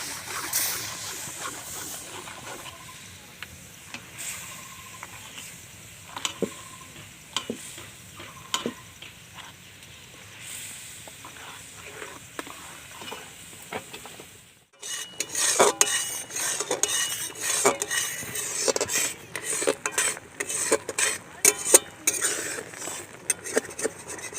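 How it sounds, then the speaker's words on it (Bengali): Lentil sandesh mixture stirred in a pan, with scraping and clinking of a utensil against metal and a soft sizzle, steady at first, then louder and busier scraping in the second half. "এবার ভালোভাবে নাড়তে থাকবো।"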